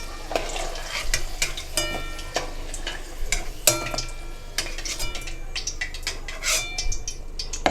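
Taro (gathi kochu) frying in hot oil with a steady sizzle, broken by frequent scraping and clinking of a utensil stirring in the pan, close up and without talking.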